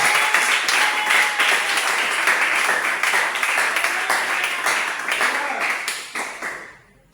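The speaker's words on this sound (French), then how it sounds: "Est-ce qu'on peut applaudir pour la gloire du Seigneur?" Church congregation at a pastor's installation service applauding, dense rhythmic clapping sustained for several seconds before fading out, with some voices mixed in.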